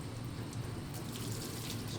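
Cold water runs steadily from a tap over a cyanotype print being rinsed, a constant close hiss and splash with no voices.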